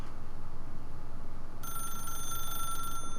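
A telephone rings in The Stanley Parable video game: a bright electronic bell trill starts midway and sustains for over a second above a low steady hum, then cuts off, with no speech.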